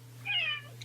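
A cat gives one short, faint meow against a low steady hum, alone with no talking.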